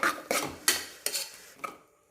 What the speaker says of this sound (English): Let's give it a good mixing.